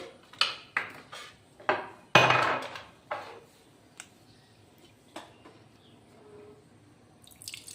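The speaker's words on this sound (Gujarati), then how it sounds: "તો અહીંયા આપણે અડધું ફાડું લીંબુ લઈ લઈશું અને હવે મિક્સ કરી દઈશું" Metal spoon clinks against a glass or pot while lemon is stirred into fresh sugarcane juice: a handful of sharp close taps and scrapes, then quieter scattered clicks and liquid sounds.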